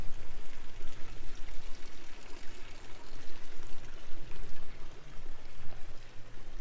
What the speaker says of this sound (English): I love these little fountains here.